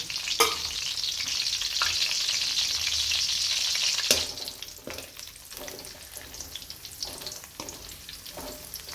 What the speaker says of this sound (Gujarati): અને થોડું ફ્લાવર લીધું હતું એ પણ જોડે તળી લઈએ.